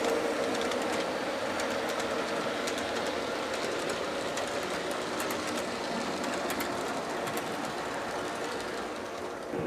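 A freight train rolls past a Boulder Creek Engineering TrainBoss defect detector, a loud, sustained grinding roar of wheels on rail with repeated metallic clicks and squeals throughout, no talking.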